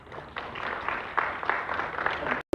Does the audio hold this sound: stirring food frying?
no